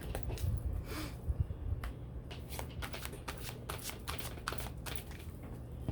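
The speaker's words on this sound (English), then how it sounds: "I'm just going to cut the cards and see what we got." Deck of playing cards being shuffled and cut by hand, a series of quick papery riffles and soft slaps close up, fairly quiet with brief pauses between handlings.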